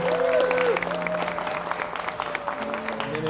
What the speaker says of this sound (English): Round of applause for the team.